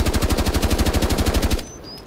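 An automatic rifle fires a rapid sustained burst in the video game Rainbow Six Siege, loud evenly spaced shots for about a second and a half before cutting off into quiet.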